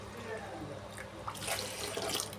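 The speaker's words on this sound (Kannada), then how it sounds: "ನಾನು 1 ಬೌಲು ರಾಗಿ ಹಸಿಟ್ಟಿಗೆ 3 ಬೌಲಷ್ಟು ನೀರು ಸೇರಿಸ್ಕೊತಾ ಇದ್ದೀನಿ" Water poured into a bowl of ragi flour for neer dosa batter makes a quiet, trickling splash that grows fuller and brighter halfway through, heard nearby in a calm kitchen.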